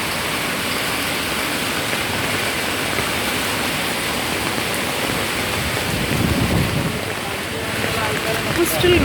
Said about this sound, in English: Rain has decided not to stop today.